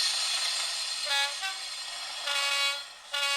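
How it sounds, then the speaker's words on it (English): Bachmann sound-fitted model locomotive played through its standard stock speaker, giving thin, bright tonal horn or whistle blasts in several bursts over a steady high-pitched hiss, with no bass and no talking. "This is the standard speaker that usually comes with your Bachmann sound fitted locomotives"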